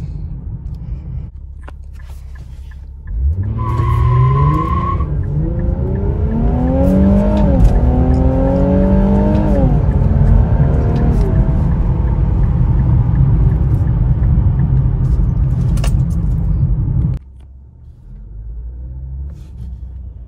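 A 2021 Infiniti Q60 accelerates hard, its engine revving up through several rising pulls before cutting off abruptly. The sound is loud and close, with a high whine at the start and no speech.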